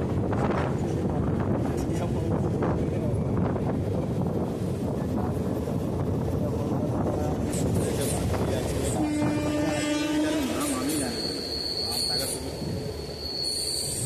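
A Howrah-Midnapore local train rumbles along its track in a loud, steady roar with wind buffeting, then wheels squeal in wavering tones near the end.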